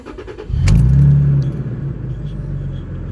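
A truck engine cranks briefly and catches, then settles into a steady low idle rumble close by, with no one speaking.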